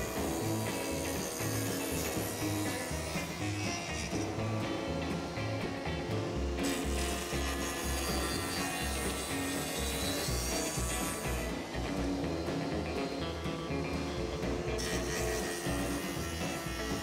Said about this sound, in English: make a series of cuts on the dado blades until we hog out that whole rabbet